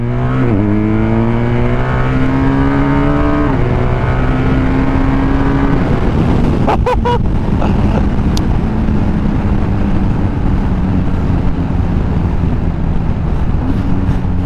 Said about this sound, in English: Never been so high up in the RPM with a R1250 GS